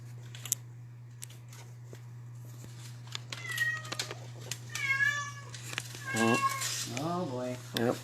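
A cat meows and yowls in drawn-out, rising wails that build toward the end, near and fairly loud over a steady low hum and scattered clicks, with a person talking briefly.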